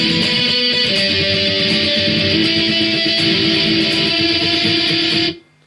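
Electric guitar playing a section of a song, a dense, steady sustained tone with ringing harmonics held for about five seconds before cutting off abruptly, loud and close with no talking.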